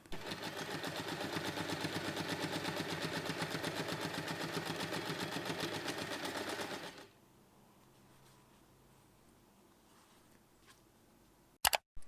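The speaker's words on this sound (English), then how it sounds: "sew only along the bottom of the front pocket to attach it" A sewing machine stitches the front pocket of a fabric snap wallet keychain, a rapid even mechanical whir for about seven seconds before stopping, followed by quiet room tone and a couple of sharp clicks at the end.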